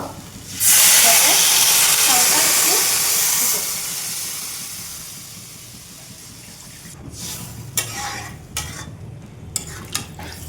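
Water poured into a pan of spiced fish head curry gives a loud, close hiss and steamy sizzle that fades to a low simmer, with a few later clinks and stirring knocks.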